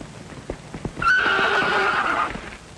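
A horse in a 1950 Western film gives a loud, clear whinny lasting over a second, preceded by a few hoof clops, with no voices.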